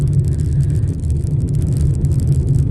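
Road traffic of cars rolls past in a constant loud rumble of engines and tire noise, heard close and unbroken, with no speech.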